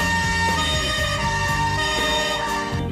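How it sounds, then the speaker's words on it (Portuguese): A fire station siren in Rio de Janeiro wails loudly and continuously, layered steady tones with a slight repeating rise and fall, heard alone without talk. "Neste quartel, basta tocar a sirene."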